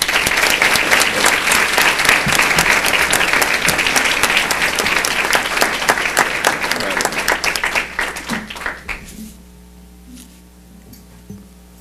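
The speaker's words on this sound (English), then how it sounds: "Can we give another big round of applause for these 2 young ladies?" A room full of people gives a loud, sustained round of applause at a school board meeting, steady dense clapping that tapers off and dies away into a quiet room after about nine seconds.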